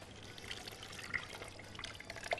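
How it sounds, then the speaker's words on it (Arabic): Cooked tomato sauce is poured over meat in a pot, a faint, soft continuous wet trickle with small splashy ticks, heard close and quiet. "هروح واخده صلصه الطماطم المتسبكه واروح عامله كده"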